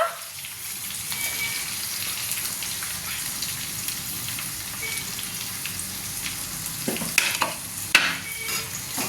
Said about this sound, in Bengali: এটাকেও একটু ভালো করে ভেজে নেব। এবার শুকনো লঙ্কা দেব